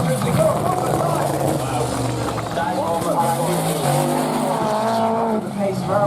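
Drift cars at the British Drift Championship scream through a tandem run, engines revving hard and tires squealing continuously, loud and close under steady commentary.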